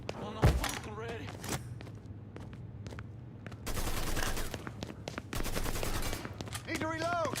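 Video game gunfire in a mafia shootout, with rapid bursts of automatic fire and single shots crackling under excited talk from players and game characters.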